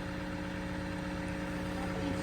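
A vehicle with a hydrostatic transmission, working on a potato farm, holds a steady engine hum with tonal drone and vibration. The sound is close and constant, with no clear rise in revs and no speech.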